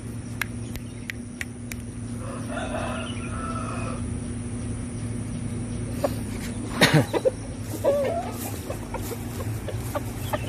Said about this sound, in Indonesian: Dan ini adalah ayam muda saya.